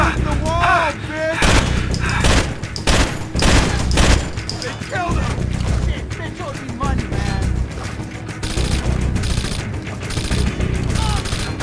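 Gunfire in Rainbow Six Vegas at the Calypso Casino: loud, close bursts of rapid shots and heavy volleys in clusters, with voices shouting over the shooting.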